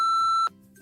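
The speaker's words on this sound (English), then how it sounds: "What's that beep?" A phone gives a single sustained electronic beep for an incoming text message, clear and steady for about half a second before cutting off abruptly, leaving a faint background tone.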